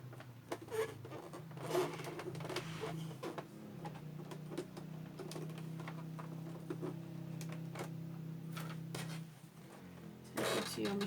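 A sewing machine stitches around a rectangle of rucksack fabric in a steady whirring run lasting several seconds, with clicks and handling noises before and after.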